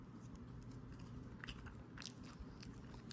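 Someone eating a cotton candy ice cream sundae with a fork, producing soft close biting and crunchy chewing sounds over a faint steady background hum.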